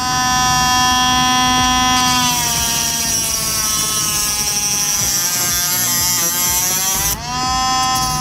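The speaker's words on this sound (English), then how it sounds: "To fix this problem, I like to use a Dremel tool to cut off the tip." A Dremel rotary tool with a cutoff wheel grinding off the worn tip of a hex wrench, a loud continuous high-pitched whine that shifts pitch as the wheel bites into the metal and briefly dips near the end.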